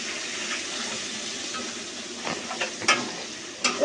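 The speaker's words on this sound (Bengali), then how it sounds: "এটা একটু ভালো করে লাল লাল করে ভাজতে হবে এই মশলাটা।" Spices and onions frying in a pot for mixed khichuri, a steady soft sizzle with a few louder stirring clinks and scrapes toward the end.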